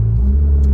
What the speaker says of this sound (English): Very little turbo noise, mostly exhaust noise with that V8